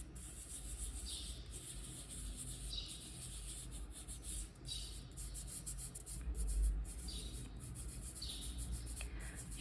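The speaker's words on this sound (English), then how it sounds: "And rub the pastel over the paper." Pastel rubbed over paper for Nagomi art, making soft, dry, scratchy strokes that repeat in a steady rhythm up close, with faint outdoor birdsong in the background.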